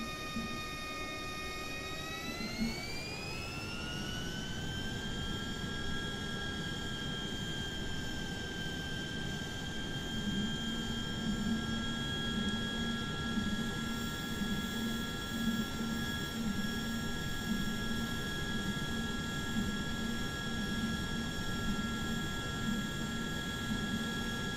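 Honda HondaJet engines whine steadily while taxiing in Microsoft Flight Simulator 2020, a constant turbine tone that rises in pitch early on and then holds level over a low rumble, continuous and close throughout.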